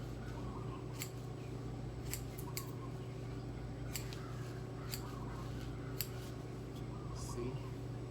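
Scissors snip hair while trimming a quick weave bob with natural leave-out, sharp cuts coming in an uneven series of about eight over a steady background hum.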